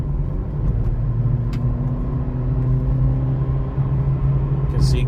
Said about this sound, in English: And we're gonna do an acceleration test.